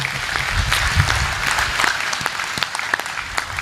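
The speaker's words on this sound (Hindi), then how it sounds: "तो एक बार जोरदार ताली बजाइए।" Audience applause at a Hindi poetry recital, a sustained wash of clapping from a large crowd that runs steadily and evenly throughout, close and fairly loud with scattered sharper claps.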